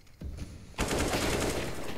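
Counter-Strike: Global Offensive gunfire on the Nuke map during a pro match: softer scattered shots first, then a loud, continuous spray of automatic fire that holds steady to the end.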